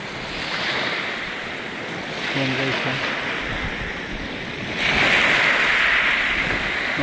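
Steady wind rushes across a microphone on the beach at Naga Leisure Farm in Mauban, Quezon, Philippines, with surf roaring underneath; someone speaks briefly, and the gusts swell louder near the end.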